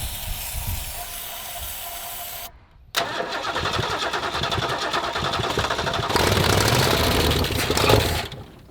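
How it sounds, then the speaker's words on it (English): An abandoned 1967 Lincoln Continental's big engine cranks briefly, cuts out, then fires and runs loud and rough close by, revving harder toward the end. "We fired that back up."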